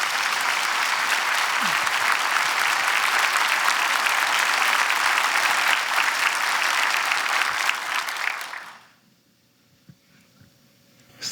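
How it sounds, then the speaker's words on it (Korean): A church congregation applauds warmly at a dedication service as a pastor is called up, a loud, steady wall of clapping that runs for about eight seconds before cutting off abruptly into near silence. "지덕 목사님 나오시겠습니다. 뜨거운 박수로"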